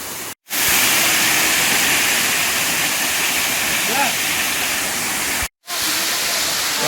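Khuludi waterfall near Khuludi Mahadev Temple in Odisha roars as a dense, steady hiss of falling water, loud and close, cut by two brief dropouts, with faint voices barely audible beneath.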